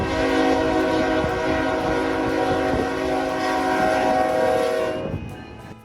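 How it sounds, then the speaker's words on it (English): A train thunders past close by at the Tehachapi depot, its horn blaring in a long sustained chord over rumbling wheels, then the noise quickly drops away at the end. "The docents kindly opened the back door so I could witness a train passing the depot."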